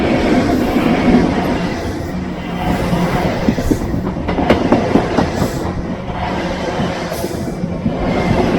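A train rumbles past nearby on a single-track line in Scotland, loud and steady, with rhythmic clickety-clack of wheels over the rails.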